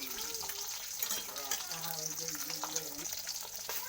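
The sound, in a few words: stirring egg cauliflower curry in the pan after adding ghee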